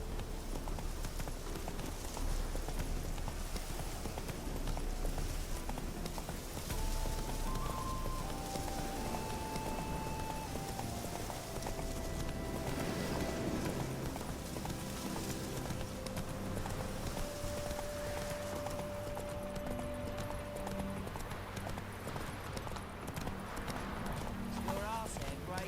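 The horse Roach gallops in The Witcher 3, a continuous rapid clip-clop of hooves running steadily under background music and occasional speech.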